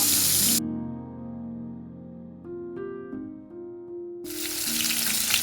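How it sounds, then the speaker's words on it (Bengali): Fish heads frying in oil for Bengali muri ghonto give a loud, dense sizzle at the start and again at the end. A steady melodic tonal passage fills the middle stretch between the two bursts of sizzling. "এবার আমি মাছের মাথাগুলো ভেজে নেব, লাল লাল করে ভেজে নেব।"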